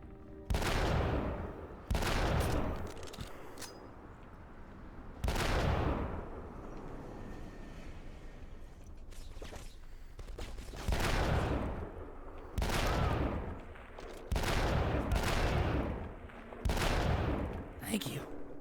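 Repeated bursts of gunfire in a Call of Duty Black Ops match, loud volleys recurring every couple of seconds with rumbling booms between, while players talk over the shooting.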